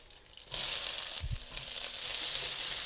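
Onions hit hot oil already crackling with popped mustard seeds and curry leaves, bursting into a sudden loud sizzle that settles into a steady, bright frying hiss with a few soft stirring thumps.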